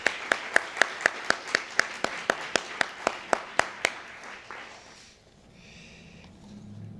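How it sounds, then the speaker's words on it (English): A small award-session audience gives a short run of spaced, distinct claps, about a dozen in an even rhythm, then fades into quiet room noise. "maybe we can have a round of applause"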